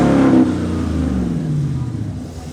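A Tesla Cybertruck at an EV meet emits a loud synthetic drone that sweeps downward in pitch and fades slowly, like an exaggerated engine sound.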